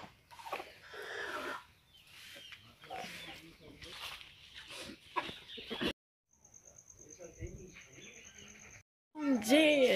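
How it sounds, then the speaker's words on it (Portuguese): Hens on a farm cluck and call in short bursts mixed with voices talking, then a high whine and a louder burst of fowl sounds at the end. "Essas galinhas estão para botar,"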